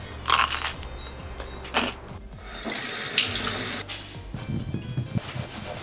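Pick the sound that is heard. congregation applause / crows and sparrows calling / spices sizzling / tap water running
tap water running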